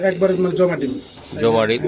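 Racing pigeons in a loft give close, throaty coos in two short bursts, overlapping someone talking nearby.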